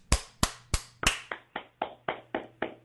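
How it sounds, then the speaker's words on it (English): A cheap applause sound effect: about ten separate, evenly spaced claps, sharp and close, with the later ones slightly duller. "Round of applause. Round of applause."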